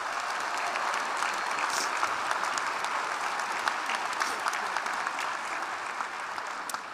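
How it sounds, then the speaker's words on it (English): Steady, dense applause from a graduation ceremony audience clapping for a choir, filling the hall evenly for the whole stretch with no voices rising above it. "Let's give them another round of applause."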